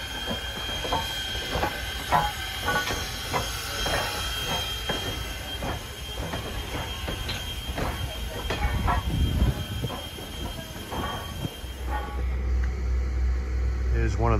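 A Strasburg Railroad locomotive backs up, its wheels squealing in high sustained tones over rumbling, clanking rail noise, fairly close and loud throughout, with an engine drone settling in near the end.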